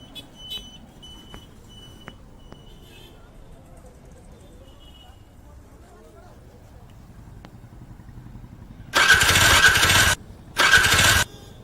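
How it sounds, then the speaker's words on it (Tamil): A motorcycle with no petrol is cranked but fails to start, giving two loud, harsh bursts of starter noise of about a second each near the end, after a quieter stretch of low rumble and clicks. "என்னன்னு தெரியல சார், பைக் ஸ்டார்ட் ஆகல."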